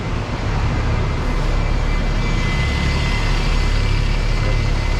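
A free city bus idles at a bus station in Kuala Lumpur, a loud, steady low diesel rumble with broadband hiss that holds constant throughout, no voices over it.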